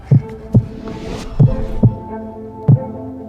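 A heartbeat sound effect thumps in a slow, uneven double rhythm, five deep, close beats with a faint airy sweep between them, used at a business summit.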